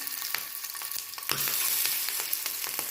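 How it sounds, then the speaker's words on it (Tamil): Mutton cutlets fry in hot oil with a loud, bright sizzle that grows fuller partway through, punctuated by repeated crackles and spits. "எண்ணெய் சூடாயிருச்சு. இப்போ கட்லெட் போட்டுடலாம்."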